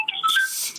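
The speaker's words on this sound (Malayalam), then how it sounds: "ഫോൺ ബെല്ലടിക്കുന്ന പോലെ തോന്നുന്നു." A phone ringtone plays a short, faint run of bright electronic melody notes, lasting under a second, during a Roblox gaming session.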